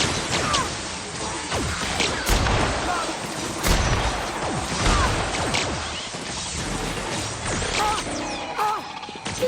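Gunfire exchange in The Outer Worlds, with repeated sharp shots and crashing impacts spread across a dense, continuous battle din, while game voices call out over the shooting.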